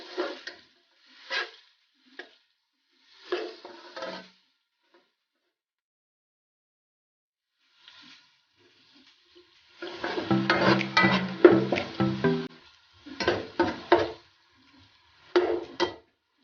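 Turmeric and coriander roasting and being stirred in a pan for a mixed vegetable sabzi, with soft scraping and faint sizzle in short bursts, then a longer busy stretch of stirring and clinking near the end.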